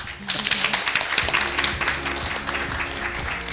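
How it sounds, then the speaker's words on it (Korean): Audience applause at a business seminar on Korean small firms in the Indian market, a burst of clapping that swells in the first second, holds, then thins slightly, with a voice talking faintly beneath it. "앞으로 꼭 성공하길 바라는 격려의 박수 좀 부탁드립니다"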